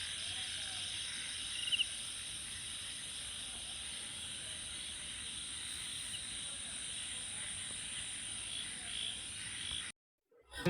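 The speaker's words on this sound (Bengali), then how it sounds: "ঝিঝি পোকার শব্দ শুনতে শুনতে আমরা ঘুমিয়ে যাব।" Crickets chirp in a dense, steady night chorus at a resort in Sreemangal, with a faint low rumble underneath before the sound cuts out near the end.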